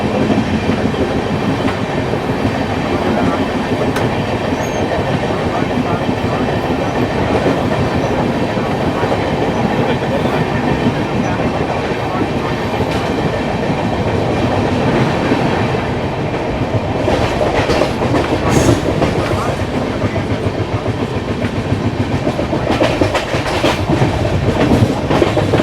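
Inside the Sealdah Rajdhani Express, a steady loud rumble of the train running on rails carries faint rhythmic clatter of wheels over joints throughout, with a few sharper clacks near the end and no one speaking.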